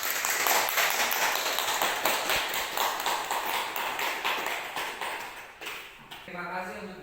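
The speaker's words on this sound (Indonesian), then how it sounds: "Tepuk tangan." An audience of teachers at an elementary school learning-community meeting claps briefly, a dense patter of hands that tapers off, followed by a voice starting to speak.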